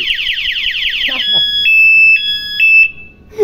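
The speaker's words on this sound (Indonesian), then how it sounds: "Ini bunyi alarmnya lebih ramai ternyata" A Luminos 9Nine A1 alarm siren on a 2014 Suzuki Satria FU motorcycle warbles rapidly, then switches to loud steady alternating high tones, with faint background noise and brief voices.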